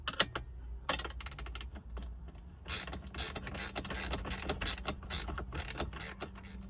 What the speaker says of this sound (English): Take your ratchet and wrench, might need to hold it from this side.